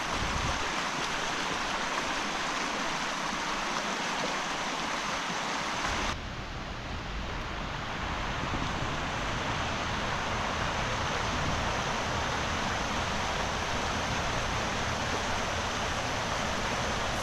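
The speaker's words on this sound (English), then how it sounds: "I could hear the sound of the water before I got to it." A small weir in a stream in the Tregargus valley, Cornwall, gives a strong, steady rush of falling water that continues throughout and grows louder and fuller partway in, close and constant with no voices.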